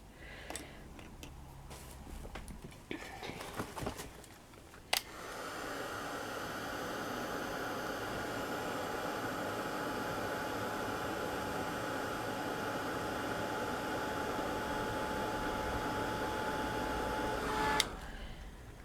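A heat tool blows over glossy accents on egg shell chips, a steady close whooshing hiss that starts abruptly after a few soft handling clicks and runs about thirteen seconds before cutting off.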